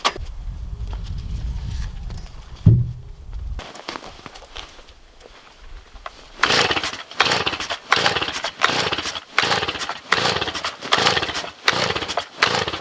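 After a quiet stretch, a balky chainsaw that won't run properly starts up and runs with a choppy, pulsing roar, loud and close, while cutting a large dead tree.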